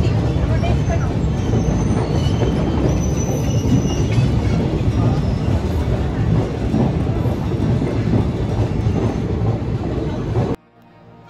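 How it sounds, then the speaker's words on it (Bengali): A train rolls over the Ganga bridge toward Kashi station in Varanasi. A loud, steady rumble of wheels and carriages runs throughout, then drops away abruptly near the end. "এই গঙ্গার ব্রিজ পার করেই ট্রেন এসে পৌঁছলো কাশী স্টেশনে।"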